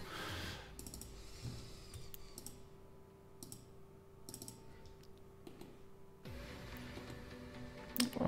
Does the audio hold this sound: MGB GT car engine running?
no